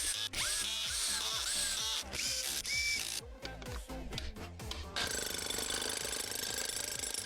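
Ratcheting clicks and mechanical clatter as two screws are tightened while repairing a power tool, close and loud, followed by a steady whirring motor hum in the final seconds.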